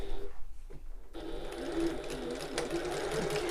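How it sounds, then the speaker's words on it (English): A sewing machine stitches through a fabric tote bag, running in a steady continuous whir after a brief start-and-stop burst at the beginning. "you can flip it over and sew from the top"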